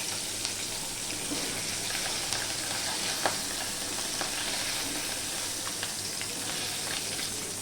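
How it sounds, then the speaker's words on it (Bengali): Small fish frying in oil in a pan over a medium flame, a steady dense sizzle with scattered pops and crackles running throughout, close and fairly loud. "দেখো ঠিক এইভাবে আমি ভেজে নিচ্ছি"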